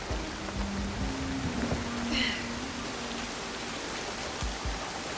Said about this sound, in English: Dark and rainy.